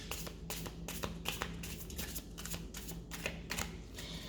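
A deck of playing cards being shuffled close up, with repeated quick riffling bursts and soft slaps in a fairly regular rhythm, fairly quiet with no talking.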